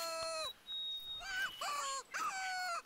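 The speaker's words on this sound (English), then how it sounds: "I heard it just bark." Short yipping barks and wavering howls from a coyote in a hunting video game, a few rising and falling calls in quick succession, fairly loud and close.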